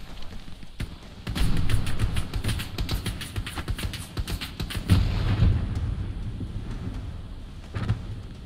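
A grenade blast in Hell Let Loose, booming low and heavy near the five-second mark amid a continuous din of battlefield rumble and scattered gunfire, with a fainter thud trailing later.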